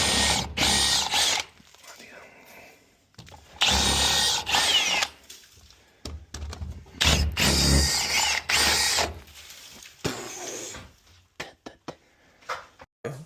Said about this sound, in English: So another hole drilled up in here